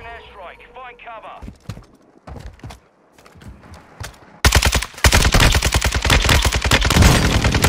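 Gunfire in a Warzone 2 battle royale match: scattered single shots early, then a loud, sustained burst of rapid automatic fire that dominates the end, with players talking over parts of it.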